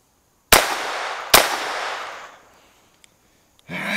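Two sharp, loud gunshots about a second apart from an Advantage Arms .22 conversion firing CCI Mini Mags outdoors, each crack followed by a fading echo, then faint clicks and rustling.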